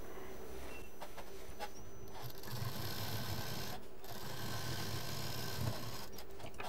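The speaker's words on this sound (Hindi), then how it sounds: "अब इसी तरह से हम इधर भी सिल देंगे।" A sewing machine stitches a big travel bag, running in a steady, faint mechanical whir with brief pauses between runs of stitching.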